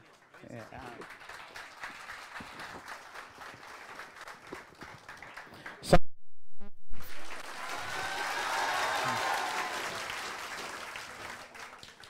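Audience applause at a celebration honoring a first-rank geography lecturer, sustained crowd clapping with talk and cheering over it, a brief loud burst midway, then swelling again.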